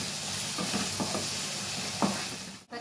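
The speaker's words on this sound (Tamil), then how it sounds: "பூண்டு போட்டுக்கலாங்க. பச்சை வாசனை போகிற வரைக்கும் நல்லா ஃப்ரை பண்ணிக்கோங்க." Onion and garlic fry in a pan with a steady close hiss. A few soft stirring scrapes land near the start and again around the two-second mark, and the sound drops away at the very end.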